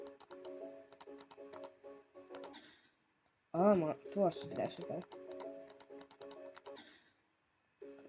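Rapid clusters of keyboard or mouse clicks while playing Geometry Dash, crisp and close, bursting in quick rhythmic runs with short pauses, alongside a person speaking in the middle.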